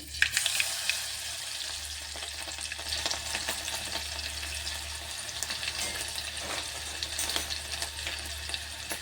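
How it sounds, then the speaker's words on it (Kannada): Garlic frying in oil in a pan for a tomato sambar, a steady crackling sizzle that holds close and fairly loud throughout, with occasional faint stirring clinks and no talk. "ಬೆಳ್ಳುಳ್ಳಿ ಒಂದು ಸ್ವಲ್ಪ ಎಣ್ಣೆಗೆ ಚೆಂದಾಗಿ ಫ್ರೈ ಆಗ್ಬೇಕ್ರಿ"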